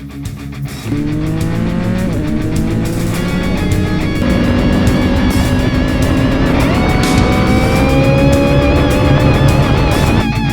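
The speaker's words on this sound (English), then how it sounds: "let's take a listen to the Werkes exhaust on this" A 2011 Triumph Daytona 675R engine revs up loudly through a Werkes aftermarket exhaust, rising and falling pitch with rough, raspy growl, close and sustained.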